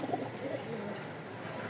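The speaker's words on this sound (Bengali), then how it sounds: "দেখেন 2 কবুতরের ডাক দেখে মন ভরে যাচ্ছে।" Giribaz pigeons coo softly at a breeding farm, a few low murmuring calls repeating over a steady background hum, fairly faint and close.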